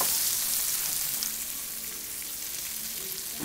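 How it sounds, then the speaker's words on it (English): Shrimp frying in a hot sauté pan for scampi, giving a steady close sizzle and crackle that eases slightly after the first second, with no voices. "there's our shrimp cooking"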